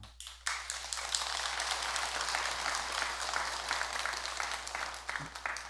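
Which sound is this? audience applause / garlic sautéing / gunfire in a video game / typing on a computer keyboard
audience applause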